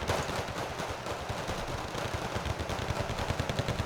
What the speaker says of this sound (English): Wow, all the Royal Marines are firing on all sides